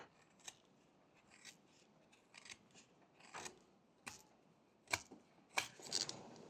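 A small whittling knife slims the sides of a carved wooden duck's beak, making faint, sparse scraping and slicing cuts in short separate strokes, a few sharper clicks near the end, heard close and alone.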